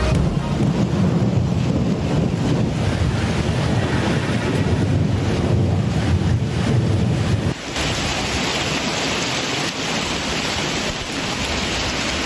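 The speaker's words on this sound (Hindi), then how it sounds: "इस्लामाबाद में शदीद तूफान, मूसलाधार बारिश और यालाबारी। तेज़ हवाओं से दरख्त गिर गए।" Heavy storm lashing Islamabad with strong winds, torrential rain and hail: a dense, loud, continuous roar of wind and pouring rain that fills the whole stretch, its texture shifting abruptly partway through.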